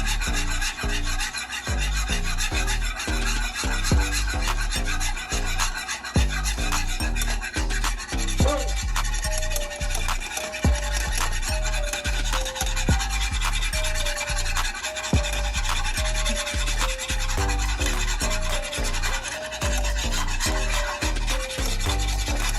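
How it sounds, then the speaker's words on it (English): Rapid, rhythmic scraping of a whisk stirring cornstarch into lemon sauce in a pan, continuous metallic rubbing strokes close up for the whole stretch, with a faint tonal line partway through. "and then you get your whisk"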